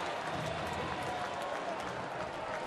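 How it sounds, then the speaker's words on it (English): Large opening-day baseball crowd at Comerica Park for the Detroit Tigers home opener: a steady roar of cheering and applause that fills the stadium. "what a crowd here today at Comerica Park"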